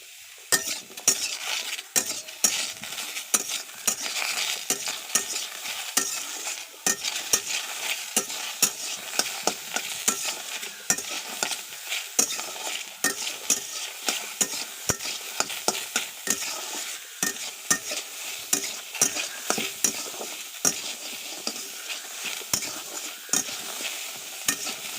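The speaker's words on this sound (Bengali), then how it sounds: "রসুন, আদা সব এইভাবে ভেজে নেব।" Garlic and ginger sizzle steadily in a hot pan while a spoon stirs and scrapes in frequent soft strokes, the broad crackle continuing throughout as masala is roasted for a rohu fish curry.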